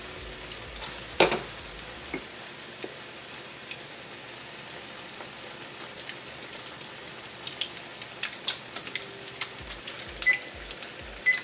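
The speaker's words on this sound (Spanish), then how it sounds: "El aceite que tenía calentando aquí, no le puse demasiado a fuego, porque si no se queman bien rápido" Salvadoran fish cakes frying in hot oil over moderate heat give a steady, close crackling sizzle with scattered sharp pops, heard alone without any voices.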